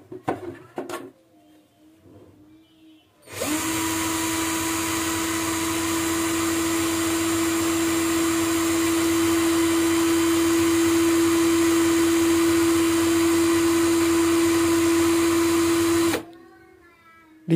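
An NRT Pro DC330 cordless drill in drilling mode runs steadily at its second speed setting, a loud, continuous high-pitched whine lasting about thirteen seconds, beginning and ending abruptly, with faint talk before it starts.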